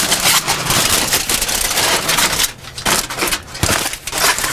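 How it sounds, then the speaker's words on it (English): Loose aluminum foil pulled off and crumpled on a Kamado Joe ceramic grill, loud close crinkling and crushing in uneven bursts with brief pauses. "we've been going for 20 minutes with that loose tin of foil, so I'm going to pull that off"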